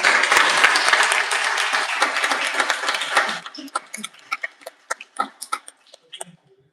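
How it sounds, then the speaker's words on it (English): An audience at a Japanese art seminar applauds for about three seconds with dense, close clapping, then the sound thins into a few scattered claps and a cough before fading out. "Let's have a round of applause."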